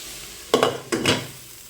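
Onions stirred in a hot pot while frying for mutton biryani: two short bursts of scraping and sizzle about half a second apart, fairly close, with quiet between them.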